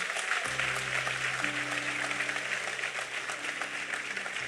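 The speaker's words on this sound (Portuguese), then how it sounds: "Então aplauda Ele por isso aí, em nome de Jesus" A church congregation applauds in sustained, even clapping, with steady tones from an organ or keyboard sounding underneath.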